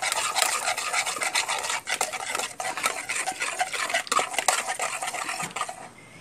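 Caesar salad dressing with a splash of chilled water is whisked briskly in a bowl, a steady rapid scraping and clinking of utensil against the sides, close and continuous.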